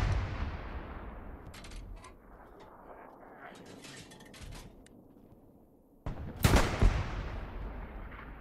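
Machine gun fire in the WWII shooter Hell Let Loose, a distant rattle at first and then loud, close bursts near the end, with players talking over the game.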